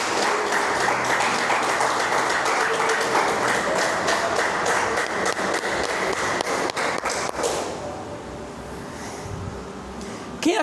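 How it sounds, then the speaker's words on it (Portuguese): A church congregation applauding together, a broad and steady roar of clapping that carries on for about seven seconds before thinning into quieter room noise with scattered taps. "Pode aplaudir o Senhor."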